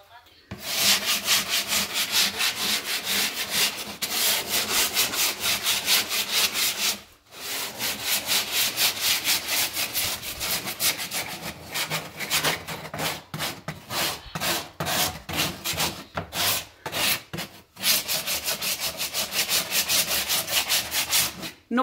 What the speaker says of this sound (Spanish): No pasaremos la lija por toda la moldura.